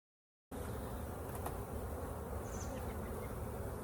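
Honey bees buzz at an open hive during an inspection, a dense, steady drone of many wings filling the space close by, starting abruptly after a brief silence and holding constant to the end.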